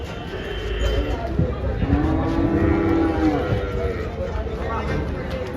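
A large cow at a cattle market lets out one long, loud moo close by, with low background noise around it.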